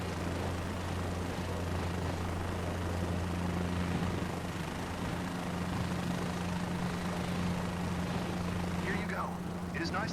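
Helicopter hovering low, about two feet up, in a flight simulator game, a steady rotor and engine drone held at constant loudness throughout, with faint chirps near the end.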